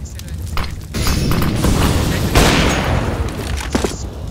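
Rifle gunshots from an esports match in a tactical shooter game, loud booming reports with a sustained burst of fire in the middle, and a commentator talking over the action.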